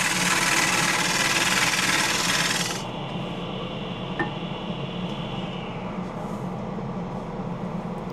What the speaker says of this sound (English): The scraper is doing a good job of removing material